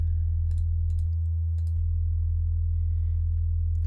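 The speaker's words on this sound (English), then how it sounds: "this is a sine wave and this is a sine wave, which is what this tone means" A steady, low, pure sine-wave tone from the Ableton Live 10 Wavetable synth hums continuously and loudly throughout, with faint mouse or key clicks scattered on top.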